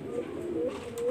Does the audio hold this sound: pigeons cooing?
yes